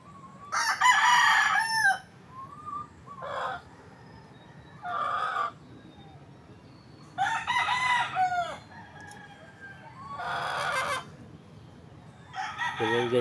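Roosters crow repeatedly, young stags giving several loud calls spaced a few seconds apart, with softer clucking between them over a quiet backyard background.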